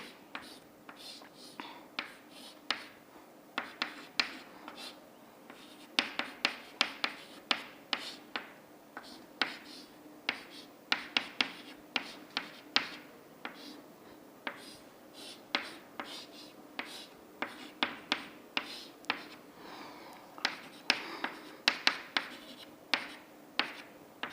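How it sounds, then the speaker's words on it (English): Chalk or marker writing on a board during an engineering lecture, heard as dense, irregular taps and scratchy strokes that continue steadily for the whole stretch in a quiet room, with faint background murmur. "So that I will be writing it over here."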